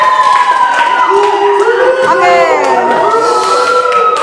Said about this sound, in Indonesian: Kita beri support tepuk tangan yuk.